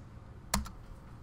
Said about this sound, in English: I could manually type it in